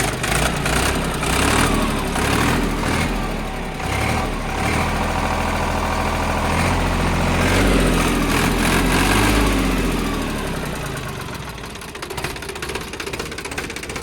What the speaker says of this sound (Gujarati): એન્જિનને સ્ટાર્ટ કરી દેવામાં આવેલ છે.